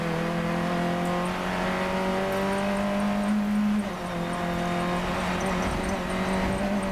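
A Funcup race car engine at Croft circuit drones steadily at high revs, pitch holding then dipping briefly as it shifts, continuous and moderately distant with no voices.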